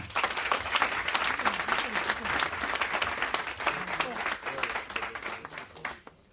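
A church congregation at a Transfiguration 2023 gathering applauds in acclaim of Jesus, with sustained, lively clapping and crowd voices throughout that fade out abruptly at the end.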